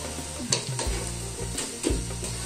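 Green papaya being stir-fried with noodles in a hot pan, with steady close sizzling and frying broken by several scraping, tossing stir strokes.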